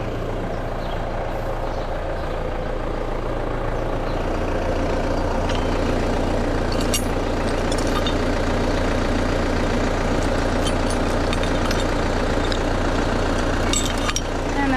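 A tractor engine runs steadily on a farm, a loud continuous low rumble with mechanical clatter, faint intermittent clicks and knocks on top, and no break in the drone.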